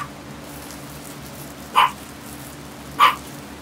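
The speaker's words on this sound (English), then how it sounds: "we got our dog in the background yakking away" A dog barks twice in the background, two short, sharp yaps about a second apart, heard at moderate distance over a low steady hum in an otherwise quiet room.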